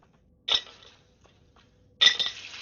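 Ice cubes clink for a glass of ice water, two sharp, bright strikes about a second and a half apart, each ringing briefly against near silence.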